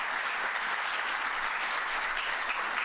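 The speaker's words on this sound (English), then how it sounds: "So give yourselves a round of applause." An audience claps steadily and densely at Vice President Mike Pence's speech for National Small Business Week 2017. The even, sustained applause holds at one level throughout, with no voices over it.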